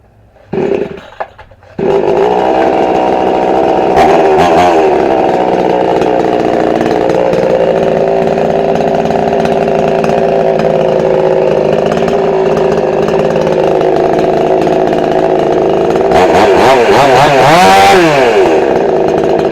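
62cc Huyosin chainsaw, bought from a pawn shop, warm-starting after a brief sputter, then idling and revving steadily close by, with a sharp rising rev surge near the end.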